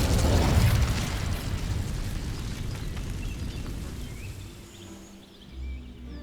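A fire spell cast in the Hogwarts Legacy video game: a loud, broad roaring whoosh of flame that bursts at the start, holds steady for several seconds, then thins out and fades.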